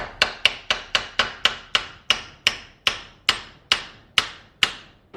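A spring bush with greased splines is hammered into place while fitting Old Man Emu suspension to an HJ47. About fourteen sharp, ringing blows land in a steady rhythm, close up with no speech.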